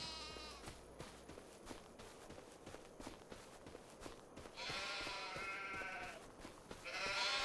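Sheep on a pasture in Farming Simulator 25 bleat in a few clear, drawn-out calls over a steady background of soft clopping and ambient farm noise, with no one speaking.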